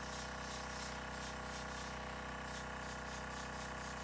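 An airbrush sprays a thin, light coat onto fingernails during Harley Quinn nail art, giving a steady, quiet hiss that runs unbroken and alone with no voices.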